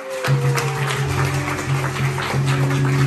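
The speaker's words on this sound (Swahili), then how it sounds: "Asanteni sana na kuwapigie makofi." A church congregation claps together in a steady, dense round of applause, fairly loud and continuous, with a sustained organ-like tone underneath.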